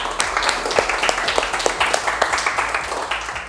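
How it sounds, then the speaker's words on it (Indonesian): Applause from a class group, scattered hand claps in a steady patter, fairly close and loud, with no talking. "Kita berikan aplaus dulu kepada Mas Bagas."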